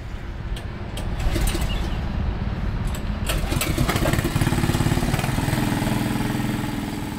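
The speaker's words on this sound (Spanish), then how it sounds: "Con una aspiradora transportan el petróleo hasta el camión." A loud, steady vacuum pump engine drones and throbs continuously as it sucks oil from a toxic oil well into a truck, the pumping rising slightly in intensity partway through.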